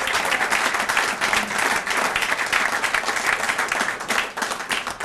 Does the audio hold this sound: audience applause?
yes